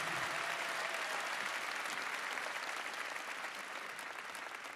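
Audience applause fills a large arena at a live concert, dense and steady clapping throughout, gradually easing slightly toward the end.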